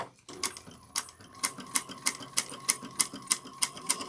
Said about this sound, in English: We're going to start top stitching here